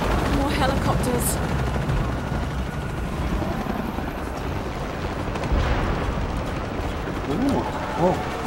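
Rotor thumping of helicopters runs throughout, dense and loud, mixed with gunfire-like bursts and explosions in a busy soundscape from the video game Shadow of the Tomb Raider.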